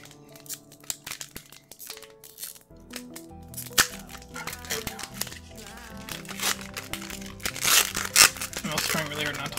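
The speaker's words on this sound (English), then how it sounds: "I think I'm gonna have to, like, grab some scissors." Scissors snip and cut through the packaging of a Pokemon Elite Trainer Box, with crinkling plastic, tearing and sharp cracks in irregular bursts, close and fairly quiet, and a voice talking at times.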